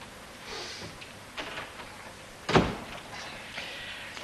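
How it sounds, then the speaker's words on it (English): A door is pulled shut in a quiet indoor room, landing as one brief, soft thud with faint rustling before and after, no voices. "Shut the door."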